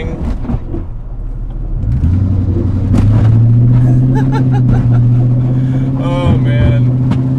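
Lexus LS400 VIP build on its first drive, engine droning steadily with a low hum and rising whir, underside dragging and scraping the road; a voice talks over it.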